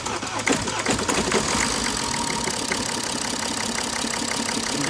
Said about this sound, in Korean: 한번 걸어봐.